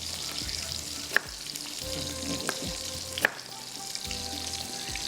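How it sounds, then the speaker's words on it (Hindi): Seekh kebabs fry in hot oil with a constant close sizzle, broken by a few sharp utensil clinks and scraping turns, no voices. "ये कबाब हमारे थोड़े से फ्राई हुए।"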